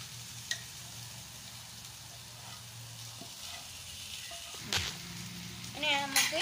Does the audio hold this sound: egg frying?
yes